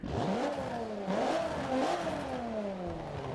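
In the Forza 7 video game, an Alfa Romeo Giulia Quadrifoglio's engine climbs through a few quick rev swells with popping exhaust crackles, then settles into a long steady pull, loud and up close.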